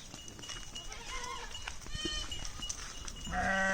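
Sheep and goats bleat repeatedly from close by, several overlapping wavering calls over a steady background hum, the bleating growing louder and more sustained toward the end.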